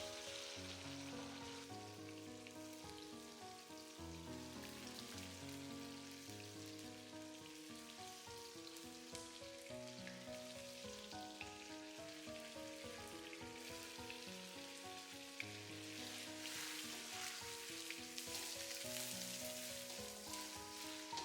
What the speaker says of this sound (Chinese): 一直煎制豆腐像这样油滋滋的、焦香焦香的